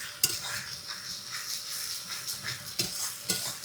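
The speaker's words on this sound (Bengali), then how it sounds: "এই যে মশলাটা দিয়ে এখন সুন্দর করে নেড়ে চেড়ে আস্তে আস্তে মশলাটা ভেজে নেব।" Ground spice paste frying with onions in a pan while being stirred, with soft sizzling and repeated spatula scrapes and clinks at an uneven pace, close by.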